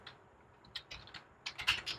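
Several quiet clicks of computer keyboard keys come in two small clusters, close and crisp against near silence, as a command is entered in the VS Code editor.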